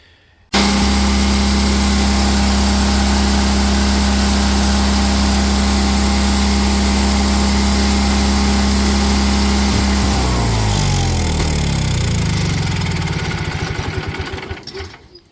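A Kohler KT17 engine on a Bolens 1700H garden tractor starts abruptly and runs loud and steady at a close, droning idle. Its pitch then slides down and wavers before the sound fades near the end.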